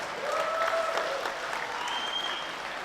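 Steady applause from a crowd, a continuous wash of clapping with faint tones and voices underneath.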